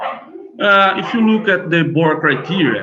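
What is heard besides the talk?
dogs barking in background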